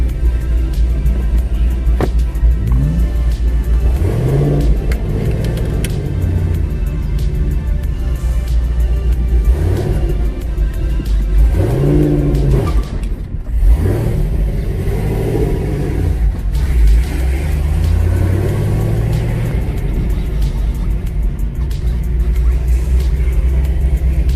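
Engine of a Chevrolet Camaro COPO revving while it drives, a loud steady rumble rising and falling through several throttle surges, heard from inside the car.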